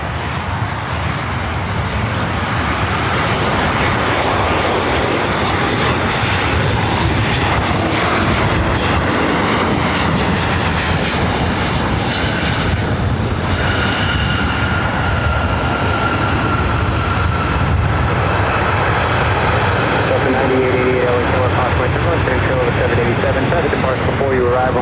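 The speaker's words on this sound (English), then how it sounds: "Also have Alaska Airlines Flight 1013 heading up for north side takeoff, heading to Seattle" An Alaska Airlines Boeing 737-900ER jet, flight 1013 to Seattle, takes off from the north side at LAX, its engines a sustained, loud roar that swells and shifts as it climbs, with radio chatter and talk over it.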